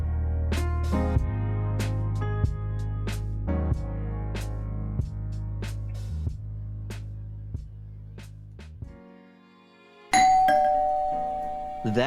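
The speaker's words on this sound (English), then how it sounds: "hopefully the doorbell's fixed permanently" A doorbell chimes repeatedly in a steady series of ding tones over a low sustained hum, ending with a brief louder burst of sound.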